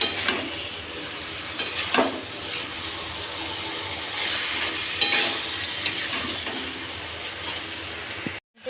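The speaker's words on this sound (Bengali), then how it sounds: "এটা একটু ভালো করে কষাবো" Chicken sautés with turmeric, cumin, green and dried chillies in a hot pan, a continuous loud sizzle broken by repeated scraping stirs and a few utensil knocks.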